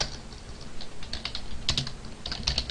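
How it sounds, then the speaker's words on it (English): Rapid typing on a computer keyboard, a steady run of light key clicks with a few sharper taps, close and alone without any voice. "Let's go ahead and type private"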